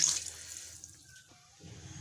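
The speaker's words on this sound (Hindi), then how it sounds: "तो अब इसके अंदर मैं शामिल करूँगा पानी।" Water poured from a tap into a pot of rice and fried chicken kofta for pulao, a short, fairly faint hissing splash that fades midway and then resumes.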